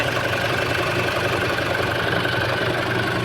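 A car engine idles at a service station check-up, giving a steady, even mechanical hum with faint knocking texture, heard alone and moderately close.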